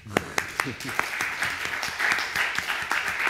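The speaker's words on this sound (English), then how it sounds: "You can applaud." Audience applause at an economic policy panel meeting, starting with a few sharp separate claps that swell into steady clapping, with a voice speaking over the start.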